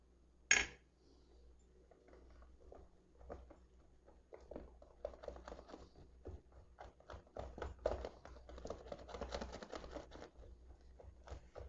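Flour is whisked into an aloe vera halwa mixture, giving a run of quick scraping and clinking taps of a whisk against the pan, soft and close, after one sharper knock at the start.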